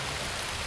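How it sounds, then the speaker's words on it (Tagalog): Heavy rain falls steadily on a trail during an outdoor trek, a dense, even hiss close by with no pauses or voices. "Dahil sobrang malakas kasi yung ulan"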